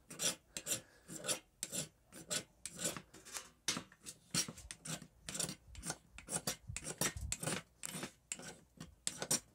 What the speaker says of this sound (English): keep gathering up our magnesium shavings